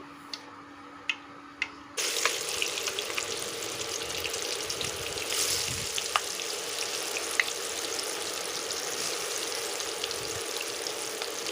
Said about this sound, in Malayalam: പിന്നെ അടുപ്പിൽ പാത്രം വെച്ച് എണ്ണ ഒഴിച്ച് ഫ്രൈ ചെയ്യാനായിട്ട്